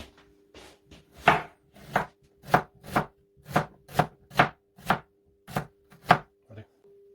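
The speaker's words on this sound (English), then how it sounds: "we're going to need to chop up our ginger and prepare it" Ginger chopped with a knife on a cutting board: about a dozen crisp, evenly spaced chops, close and clear, with no talking.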